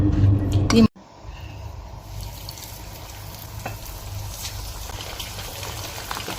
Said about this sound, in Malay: kita goreng ayam dia uh, kita nak double fry